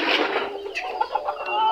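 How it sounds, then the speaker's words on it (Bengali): Cochin, mottled cochin and frizzle bantam chickens, one rooster and four hens, cluck loudly and close by in a farm yard, with a burst of calls followed by shorter clucks overlapping one another. "এই তো সেই 5টা মোরগ এবং মুরগি যেগুলাকে আমি খাঁচার মধ্যে রেখে দিয়েছিলাম"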